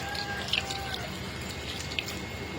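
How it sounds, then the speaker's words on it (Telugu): Water poured into a simmering egg curry in a pan, a soft liquid splash and trickle with a couple of small drips over a faint bubbling background. "కొంచెం వాటర్ పోసుకున్నాం."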